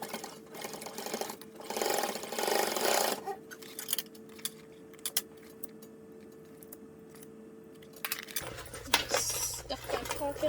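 A sewing machine stitches a clutch lining shut, its fast mechanical whir running in bursts between pauses, with light handling clicks and a hum. It sounds close and moderately quiet, with a change in background tone near the end.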